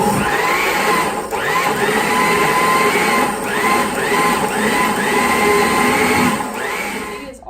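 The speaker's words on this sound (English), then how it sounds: "We're going to turn the blender on and we're going to pulse it just so that it grinds up all the kale to a good level" A blender pulses kale into a vegan smoothie, a loud, continuous whirring grind that dips briefly a few times between bursts, with no talking.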